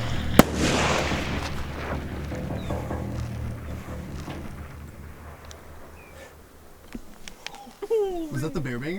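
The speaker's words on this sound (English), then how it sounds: "Was that the bear banger? That was a bear banger." A bear banger pyrotechnic noisemaker fired outdoors on the Canadian tundra: one sharp, loud bang near the start, then a long fading rumble and echo, followed by quieter scattered sounds and a bird call near the end.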